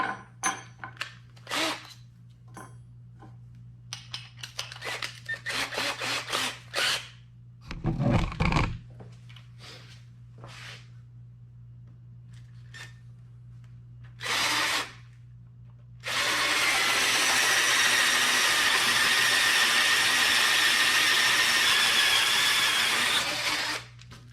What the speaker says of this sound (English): If I drill 1/2 inch holes, might be a little tight getting that rope through